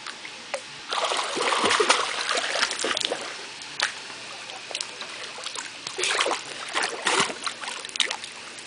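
A child swims and splashes in a pool. Irregular bursts of close water splashing and churning come and go with short quieter gaps between them, and no talking is heard.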